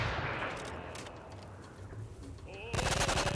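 Rapid automatic gunfire from the Call of Duty: Modern Warfare 3 video game plays as a dense, continuous stream of bursts mixed with other game sounds. A faint voice sits underneath, and the firing grows louder toward the end.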